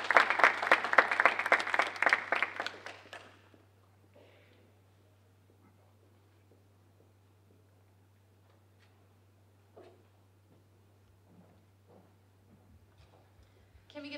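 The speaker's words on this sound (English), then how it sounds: "Can we get another round of applause" Audience applause at a university student government civic engagement event, brisk clapping for about three seconds that stops abruptly, followed by a quiet room with faint shuffles.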